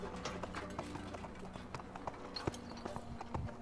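A female donkey's hooves clip-clopping as she walks away, a steady series of light, irregular taps over a soft background hum, fairly faint.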